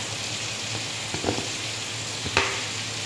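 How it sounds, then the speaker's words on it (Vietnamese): Salted pork frying in a scorched pan, a steady close hiss and sizzle throughout with a few faint utensil taps, no voices. "mình chiên thịt nó chín rồi nha"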